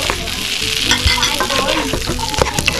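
Shrimp frying in melted butter in a pan, with a steady close sizzle and crackle broken by scraping and stirring clatter, no voices.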